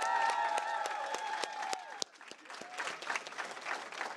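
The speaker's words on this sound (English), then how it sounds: "Let's give our team a great round of applause." An audience applauds the campaign and Capitol office staff at a Colorado governor's 2022 midterm victory speech, with dense sustained clapping and crowd noise and a sharp thump near the middle.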